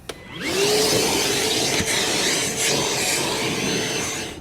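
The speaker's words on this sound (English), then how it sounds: "we're going to just hit our floor here with a vacuum to clean up any mess." A vacuum cleaner runs steadily and loudly as it cleans the car floor before a WeatherTech second-row floor mat goes in, its motor whining at a constant pitch with slight dips as the nozzle moves.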